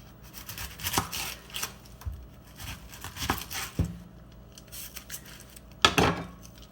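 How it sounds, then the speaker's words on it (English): A knife works through an onion with soft spots on a kitchen board while preparing karniyarik, giving scattered close cuts and taps, a few louder knocks and a sharp clatter near the end. "The next thing I'm going to do is prep my onion."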